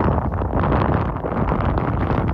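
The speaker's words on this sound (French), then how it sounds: "je vais mettre quelque chose sur mes oreilles parce que le vent là, ça commence à me faire mal" Strong wind blasts against the microphone outdoors in a dense, continuous roar that stays loud and rough for the whole stretch, with no voices over it.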